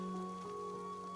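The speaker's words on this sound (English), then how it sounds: "It's clearly like such a gentle, like nice rain." Gentle, steady rainfall from the video game Wanderstop, a soft continuous patter with a faint tonal hum of game music underneath, no voices.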